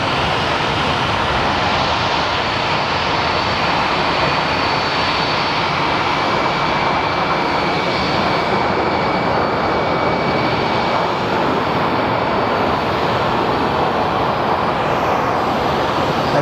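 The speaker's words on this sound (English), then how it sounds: "we have some beautiful lighting to at least watch some of these landings" Airliners landing at Phoenix Sky Harbor airport produce a loud, steady engine roar with a broad rushing drone and faint whining tones that hold for the whole stretch, with no voices.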